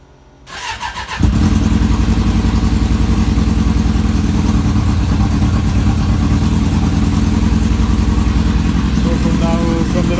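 A Suzuki GSX600F motorcycle with cold-start trouble cranks briefly, then catches and settles into a loud, steady close-up idle that runs on without a break.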